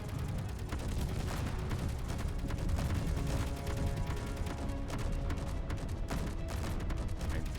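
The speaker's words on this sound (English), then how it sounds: "This autocannon has really, really bad aim." An autocannon fires continuously in the Space Engineers game, a dense, loud stream of rapid shots and mechanical clatter that never lets up.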